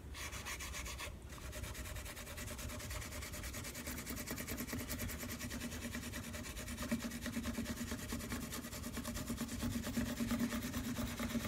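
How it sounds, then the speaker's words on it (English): Steel wool rubbed over the frets of a Vega Tubaphone tenor banjo during a refret, a continuous close scratchy scrubbing that holds steady throughout with no talk. "Now we just go over that with a little piece of steel wool."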